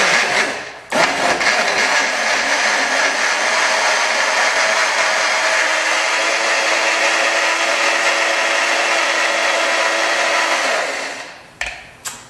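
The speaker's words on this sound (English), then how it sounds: "And then I like to use a small handheld blender, it's just easy." A small handheld blender whirs continuously at high speed while blending an avocado, orange and basil dressing, one loud steady run that starts abruptly and winds down at the end.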